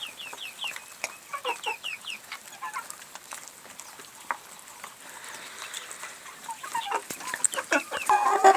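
Broiler chickens clucking while feeding, several birds giving short rhythmic clucks and chirps nearby, with soft pecking patter in between that grows busier toward the end.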